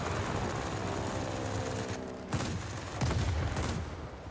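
Aircraft machine guns and a cannon fire in a World of Warplanes dogfight of an XFL plane, with rapid bursts over a steady engine drone and a heavier volley near the end.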